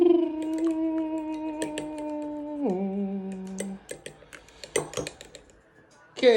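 Raw egg being mixed in a bowl makes light, scattered clinks and taps of a utensil against the bowl, under a sustained tone and some talking.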